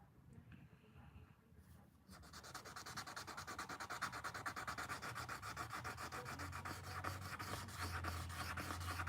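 Worn 1200-grit sanding pad scrubbing the bolsters of a 1981 Case 6265 folding hunter knife, a steady rhythmic rasping of rapid back-and-forth strokes, close and continuous after a brief quieter start.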